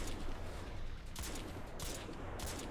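Gunfire in the first-person shooter Crysis 3: three or four sharp shot bursts ring out at even intervals over a steady, loud background of game noise, with no talking.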